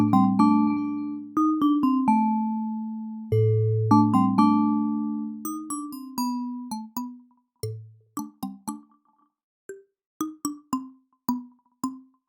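Synthesized percussive tones from a Chromaphone 2 marimba-style patch, a melodic run of sharp mallet-like strikes with short ringing decays, some low notes sustaining longer, spaced phrases growing sparser toward the end, alone and clear.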